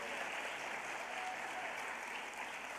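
A crowd cheering section gives steady, sustained applause and cheers for a teacher finalist from McDonough Middle School, a dense, even roar with no pauses.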